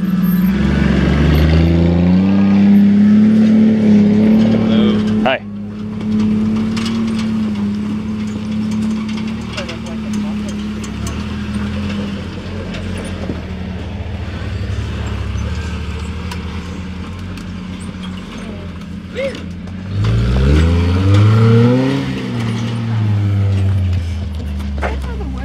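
Jeeps on an off-road trail rumble past one after another, engines idling low and revving in short surges as they crawl by close up, with people talking over them.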